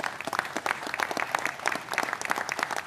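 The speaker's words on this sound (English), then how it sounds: "Please give them a round of applause." An audience applauds at a county press conference about removing a Confederate monument, with steady clapping from many hands filling the room for the whole stretch.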